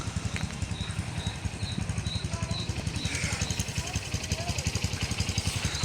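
A Bajaj Boxer motorcycle being ridden gently during break-in gives a steady, pulsing single-cylinder engine chug close by, with birds chirping in the background.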